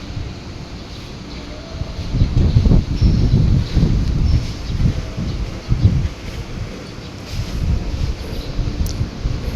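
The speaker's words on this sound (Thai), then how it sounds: "ลมเย็นนะครับ" Cool wind gusts across the microphone outdoors in Amata City, Chonburi, a loud low rumbling buffet that rises and falls in waves over a faint airy background.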